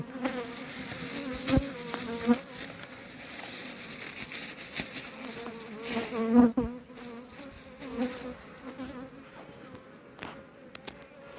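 A dense, steady buzz of many honeybees in an opened hive, close and continuous, with a few louder swells and bumps of handling noise.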